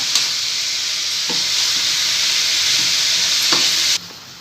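Bitter gourd pickle being stirred in a hot pan after lemon juice goes in, a continuous loud sizzle and hiss with a few soft scraping strokes, close up and without any voices.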